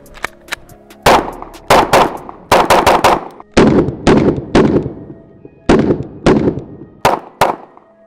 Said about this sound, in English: This is a full mag of 9mm out of this custom Glock 19.